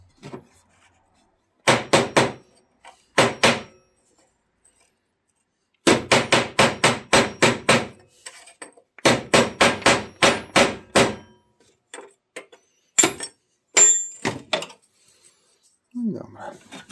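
Hammering out soft aluminium rivets on a Bizon combine alternator: sharp, close metal-on-metal blows landing in quick clusters of three to eight strikes, separated by short pauses.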